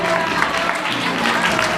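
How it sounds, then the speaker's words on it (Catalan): An audience claps at a school Christmas concert in Premià de Mar, a brief, steady burst of applause close and fairly loud. "Un fort aplaudiment."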